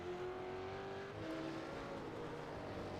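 Race cars, including a RUF S3R6 supercar, run at Watkins Glen, heard as a faint, steady engine drone with some shifting pitch from a distance. No speech.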